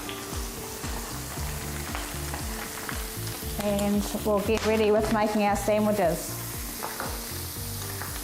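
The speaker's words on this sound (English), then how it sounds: "I've also got some beef here, and that's sizzling away nicely too." Beef sizzles steadily in a hot pan, a constant close crackling hiss with stirring and scraping, while a person talks over it.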